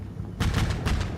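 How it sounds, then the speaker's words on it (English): A CV90 infantry fighting vehicle's 35mm autocannon firing in Combat Mission: Shock Force 2, a loud, rapid burst of heavy rounds with a steady rhythm, starting abruptly after a quiet moment. "Big old 35mm cannon."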